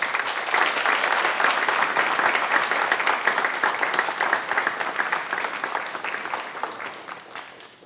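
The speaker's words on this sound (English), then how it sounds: "You clap all you want tonight." An audience applauds at a school district board meeting after a Teacher of the Year is honored, sustained close clapping from a roomful of people that carries on evenly and tapers off near the end.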